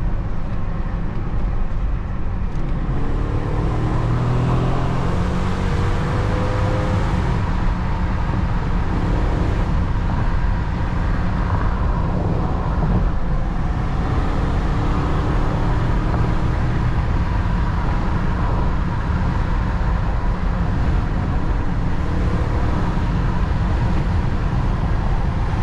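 A remapped 309 HP BMW X5 4.4i E53 SUV pulls hard along a curvy road, its engine roar blending with dense road and wind noise in a loud, continuous drone with no voices.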